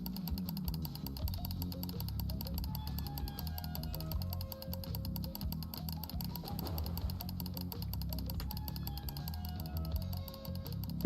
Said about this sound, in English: The clicking noises are getting a little obnoxious